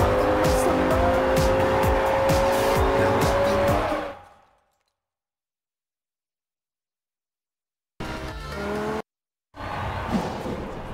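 Cars in the racing game Forza Horizon 2 rev loudly with engine roar and tire squeal for about four seconds, then cut to silence before two short bursts of engine noise return.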